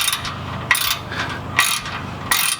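A ratcheting spanner tightens exhaust bolts on a Toyota GT86 during a catback install, with three or four quick clicking ratchet strokes separated by short pauses, close and clear with no talking.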